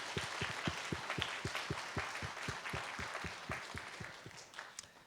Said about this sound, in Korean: 하나님께 큰 박수 영광 올려드릴까요?